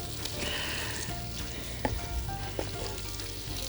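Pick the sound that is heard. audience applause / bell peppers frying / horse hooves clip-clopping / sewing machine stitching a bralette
bell peppers frying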